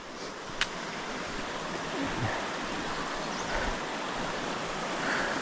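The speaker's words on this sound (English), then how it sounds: "water rushing and tumbling over the rocks in the stream bed" A creek's water rushes and tumbles over rocks in the stream bed, giving a steady, faint broadband wash that holds even throughout with no breaks.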